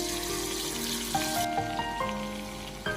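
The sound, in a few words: chicken wings frying in hot oil in a pan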